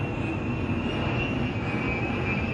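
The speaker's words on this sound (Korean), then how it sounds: "지금 비행기가 지나가가지고" An airplane passes overhead with a steady, loud, broadband roar and a thin high whine held throughout. The roar drowns out everything else.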